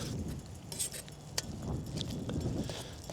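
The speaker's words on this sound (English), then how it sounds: "keep stirring it so nothing sticks to the bottom" A metal spoon scrapes and clinks faintly against a pan on a Trangia camping stove with the heat turned off, soft irregular stirring taps close by, with no talking.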